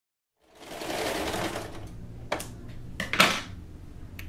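A sewing machine stitches a bra trimmed with lace, running in a steady close burst and then a few short starts and stops with clicks of the mechanism, with no voices.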